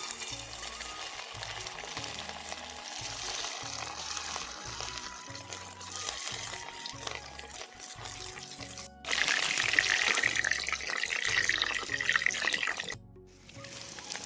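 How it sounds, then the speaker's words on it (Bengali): Chicken pieces going into hot oil in a wok for chilli chicken, a bubbling, trickling fry that swells into a louder hiss partway through before dropping back. "তেলটা আমার গরম হয়ে গেছে এবার আমি চিকেনটা ভেজে নেব"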